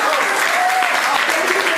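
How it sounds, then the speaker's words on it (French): A comedy show audience breaks into dense, steady applause that fills the room at full strength for the whole stretch, with scattered voices mixed in. "Et ça peut s'applaudir, j'ai fait Bercy les gars."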